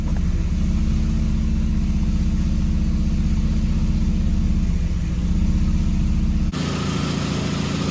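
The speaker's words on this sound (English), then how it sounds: "now we're pretty much gonna turn the car on" Hyundai Genesis Coupe 2.0T, a 2010–2014 model, idles with a steady, loud, low engine hum that holds throughout, then shifts slightly in tone near the end.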